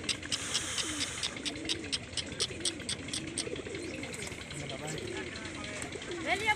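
Racing pigeons at a loft coo repeatedly in soft, rolling calls close by, with a person speaking over them in Hindi.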